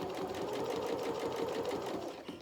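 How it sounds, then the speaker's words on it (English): A domestic sewing machine runs steadily, top stitching along the hem of a dress skirt, with a continuous close whirring drone and no break across the span. "So now I just start sewing along my hem"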